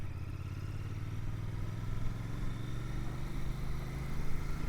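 A Royal Enfield Bear 650 motorcycle being ridden gives a steady, close engine drone with a low throbbing note and wind rush, holding fairly even throughout.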